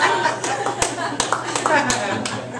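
Audience clapping at a comedy night in a bakery cafe, a dense patter of hands with sharper individual claps standing out, close and steady throughout, with faint voices and chuckles mixed underneath.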